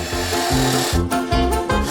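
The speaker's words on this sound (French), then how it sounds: "une tronçonneuse" A chainsaw-like motor buzzes in repeated bursts, revving and dropping roughly every half second, loud and close with a harsh mechanical rasp.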